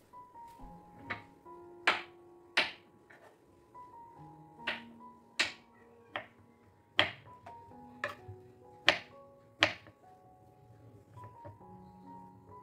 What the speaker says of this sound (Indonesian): untuk kentang ini aku potongin kotak-kotak seperti biasa ya teman-teman